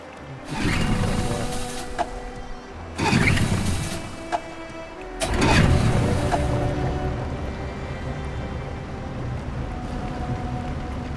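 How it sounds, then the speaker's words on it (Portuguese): Boat motor starting and running in the video game Detroit Become Human, with bursts of rough churning roar that settle into a steady, loud mechanical drone over water. "Vou ligar o motor."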